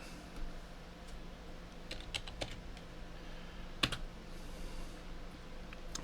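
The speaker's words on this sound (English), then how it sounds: "you just type in rat" Someone types a short word on a computer keyboard: soft, irregular key taps at steady low level over quiet room hiss, with one louder key strike near the end.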